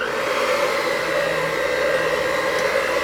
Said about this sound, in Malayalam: ഇത് ബീറ്റർ വെച്ചിട്ട് ഇതെല്ലാം കൂടിയിട്ട് ഒന്നും കൂടി ഒന്ന് ബീറ്റ് ചെയ്തെടുക്കുക.